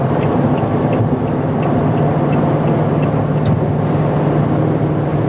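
Inside a 2020 Toyota Tundra TRD Sport V8 pickup on the move, a steady low road and engine drone mixes with wind rush and faint ticks, constant and unbroken with no talking.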